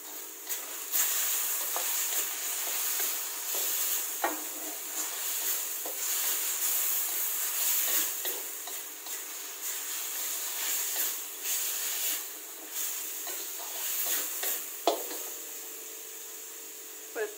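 Chicken breast with onion and mushrooms is stir-fried, giving a continuous sizzle and hiss punctuated by repeated spatula scrapes and taps against the pan.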